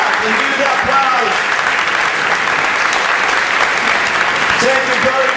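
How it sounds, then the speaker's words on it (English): A lecture-hall audience rises to its feet and claps steadily. The dense applause runs loud and unbroken for several seconds, with faint voices mixed in. "Stand up and give the applause."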